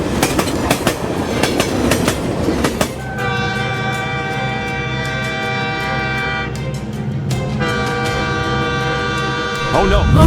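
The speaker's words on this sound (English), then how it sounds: "The train is slowly moving down the track." A train moves slowly down the track with a steady rolling rumble, and a loud, sustained horn blares over it, breaking off briefly before sounding again.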